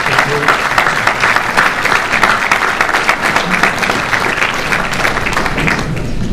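Dense, sustained applause from a conference audience welcoming a guest speaker, many hands clapping steadily and evenly throughout with no talk over it.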